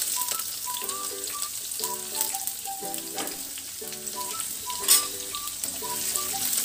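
Onions frying in hot oil with whole spices like cloves, cardamom and bay leaf for a pumpkin dish, a steady close sizzle under a light melody of background music.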